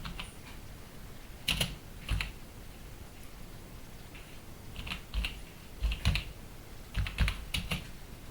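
Keys clatter on a keyboard in short bursts of a few quick taps, separated by pauses, close and fairly soft over a faint background hiss, with no speech.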